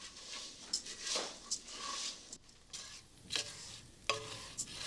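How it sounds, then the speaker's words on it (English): Rice toasts in a pan, giving a soft, steady sizzle with scraping and rustling stirring strokes recurring throughout, close and fairly quiet. "the sound and the feel as the rice toasts and cooks a little bit more will get heavier"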